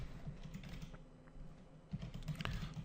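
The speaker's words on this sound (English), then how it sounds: "let me type document" Rapid, close typing on a computer keyboard while entering JavaScript code, a steady run of soft keystrokes that pauses briefly near the middle, then resumes with a few sharper taps.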